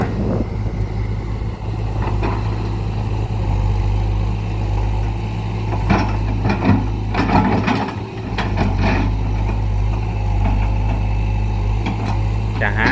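A Hitachi excavator grading soil for a new road rumbles steadily at a low idle-like drone, with intermittent clanks and scraping bursts from the bucket working dirt, moderately close throughout.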